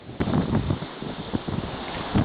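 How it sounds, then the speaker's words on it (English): Strong wind at sea aboard a solo sailboat running fast in 20 knots with two reefs and a heavy jib, a steady loud roar buffeting the microphone with gusty surges throughout, no voices. "Wind stabilized"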